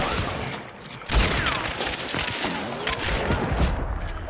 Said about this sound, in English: I shot her right instead of hit the fence